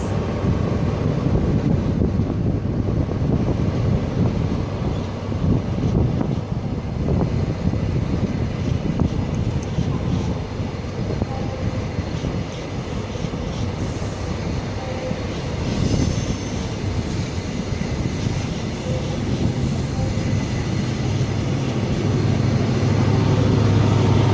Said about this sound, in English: And the HST is now departing with the Leeds.